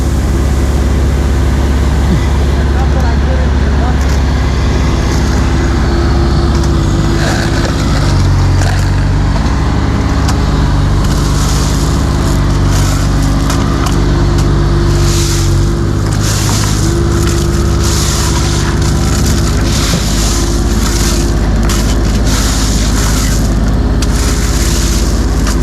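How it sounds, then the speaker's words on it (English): A heavy excavator works on a drainage dig, its diesel engine droning loud and close throughout with deep steady rumble, while hydraulic whines and clanking scrapes rise during the turning and arm movement. "Check out how tight the turn radius on this excavator is."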